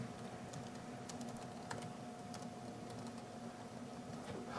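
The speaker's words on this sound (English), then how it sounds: "While I'm typing this, are there other questions?" Keys clack on a computer keyboard in quick irregular bursts over a steady background hum, fairly faint and close, with no one speaking.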